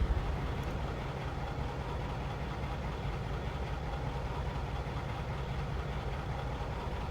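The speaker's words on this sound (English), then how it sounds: "We get to listen to that engine as though the windows are down." A Mack ENDDT865 truck engine in a Mack R, from American Truck Simulator, idles steadily with a low, rumbling drone that holds constant throughout, close and moderately loud, with no voices.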